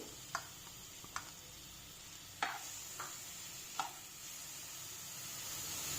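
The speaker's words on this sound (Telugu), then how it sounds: "ఇది బీట్రూట్ గ్రేటింగ్స్ అనమాట, వేసేస్తున్నాను." Grated beetroot cooks in ghee for halwa as a spoon stirs it, giving several sharp clicks against the pan over a faint, steady sizzle, all quiet and close.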